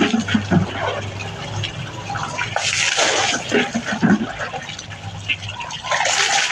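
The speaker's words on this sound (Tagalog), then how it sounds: "Tuloy-tuloy na yung buhos ng tubig." Shower water pours continuously with a steady rushing splash, loud and close, while a person talks over it.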